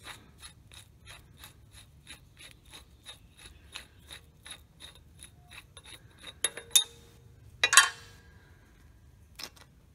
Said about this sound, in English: once that's loose, spin this outer nut off